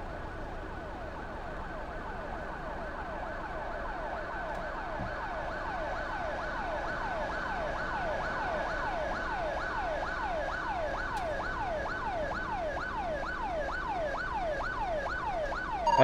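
A wailing ambulance siren from the GTA IV video game, played in multiplayer, cycles steadily for the whole stretch, loud and continuous with a faint hum of traffic beneath and no talking.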